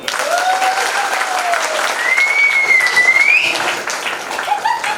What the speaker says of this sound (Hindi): ये जोरदार तालियां।